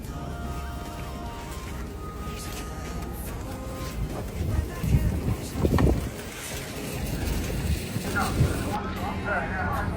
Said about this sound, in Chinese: 风大得很呐！